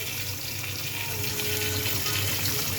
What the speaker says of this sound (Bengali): এই যে চাল কুমড়াটা ভাজি হয়ে যাচ্ছে প্রায়।